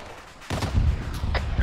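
A rocket launch in the military shooter Arma 3: a sudden loud blast-off kicks in after a quiet moment, followed by a roaring, rumbling rush with sharp cracking bursts on top, close and forceful.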